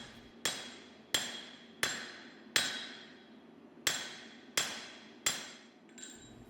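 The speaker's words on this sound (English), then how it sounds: "Now I'll jump over to the guillotine again and really set off the neck where the bolster meets the tang." Hammer blows strike a forging guillotine tool, necking down a knife blank where the bolster meets the tang on an integral chef's knife; seven sharp, ringing metallic strikes land in a steady rhythm, each decaying quickly, close and loud.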